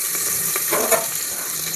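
Garlic sizzling and frying in hot oil in a pan, a steady close crackle with light stirring, no voices.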